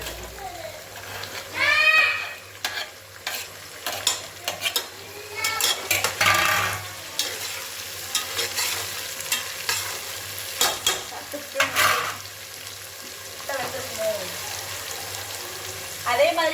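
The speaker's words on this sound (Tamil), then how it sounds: "இப்போ பாருங்க வெங்காயம் நல்லா வதங்கிடுச்சு இந்த மாதிரி நல்லா ஃப்ரை ஆயிடுச்சு" Onions frying in a pan for chicken biryani give a steady close sizzle, broken by stirring scrapes and clinks of a spoon against the pan, with a voice heard briefly.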